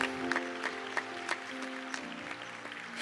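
A congregation claps during a Portuguese-language sermon, with scattered, fairly faint claps over a sustained musical drone in the background.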